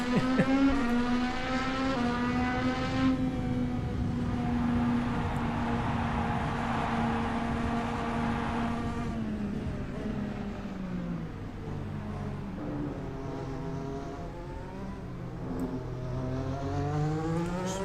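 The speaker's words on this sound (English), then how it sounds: "Are we going deep on the formation lap, Joshi?" Race cars on a formation lap in a racing video game at the Mexico circuit, with a steady, loud engine drone that rises and shifts in pitch as the cars accelerate together.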